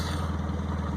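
A 1998 Honda Accord engine idles with its exhaust pipe cut off, giving a loud, raw, rhythmic putter that pulses steadily and close by.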